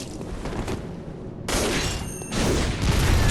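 Cannon blasts in the game Bloodborne, two sudden loud bursts of booming gunfire that cut in about a second apart, each followed by a noisy crackling tail over a rumbling background.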